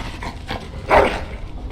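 A dog in the Dragon Age: Origins castle of Highever gives a short whimpering yelp near the middle of a brief stretch, over quiet background ambience.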